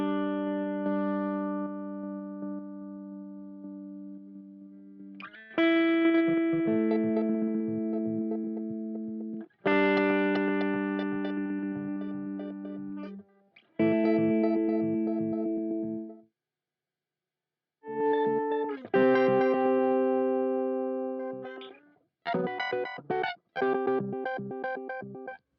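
Electric guitar through a Boss MD-200 pedal on the slicer modulation effect, sustained notes and chords chopped into rapid rhythmic pulses, close and clear, separated by brief silences, with no talking.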